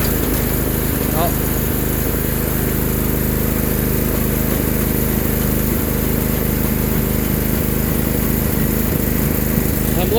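A Sears garden tractor loader's small engine runs loud and steady, droning close up without a break while the loader lifts, and speech sounds faintly under the noise.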